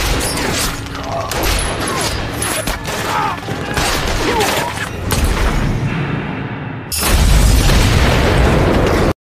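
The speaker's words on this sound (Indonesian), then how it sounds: "Tembakan kedua El Diablo mengenai mobil van tersebut sampai meledak." A van blows up after being shot in an action film scene, with a loud, crackling blast and scattered bursts and debris, then a deep, booming roar that swells near the end before cutting off abruptly.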